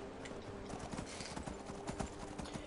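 Hooves of a horse galloping in the video game Skyrim, a quick rhythmic clip-clop of repeated thuds, steady and close, with no talk over it.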